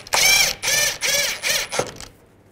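A ratchet wrench tightening cradle bolts on a 2006-10 Volkswagen Jetta during a front lower control arm replacement: four quick, loud clicking ratchet bursts close by, followed by a short trailing click and quiet, with no talk.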